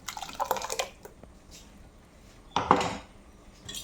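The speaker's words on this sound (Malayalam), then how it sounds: "നമുക്കിത് ഇനി വെള്ളം ഒഴിച്ച് അരച്ചുകൊണ്ട് വരാം നമുക്കിത് ചട്ടിയിലേക്ക് ഒഴിക്കാം" Ground coconut and spice paste, thinned with water, is poured into a clay pot for sardine curry. Two short wet splashing bursts with faint clinks come close up in a quiet kitchen.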